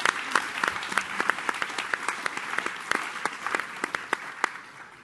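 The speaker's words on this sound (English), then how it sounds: "Round of applause for that." Applause from a live audience at a talk on climate solutions: a steady wash of clapping with distinct sharp claps standing out, fairly close and even, easing slightly toward the end.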